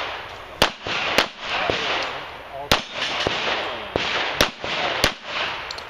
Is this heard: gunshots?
yes